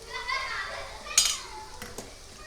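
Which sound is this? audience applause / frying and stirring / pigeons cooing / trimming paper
frying and stirring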